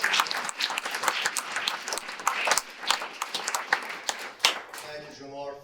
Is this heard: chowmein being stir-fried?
no